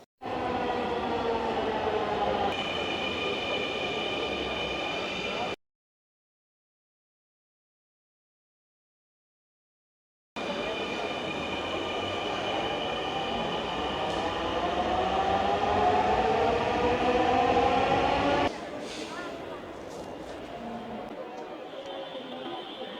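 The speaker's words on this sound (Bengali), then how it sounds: "ট্রেনটা একদম ঠিক রাইট টাইমে স্টেশনে পৌঁছে গেল" Rumbling Dhaka metro train in Bangladesh with a rising electric whine as it rolls into a station, cutting out briefly, then a hiss and clatter as it stops.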